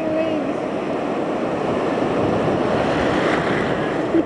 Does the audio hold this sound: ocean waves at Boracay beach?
yes